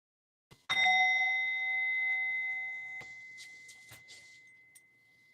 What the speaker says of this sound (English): ring the little sound bell.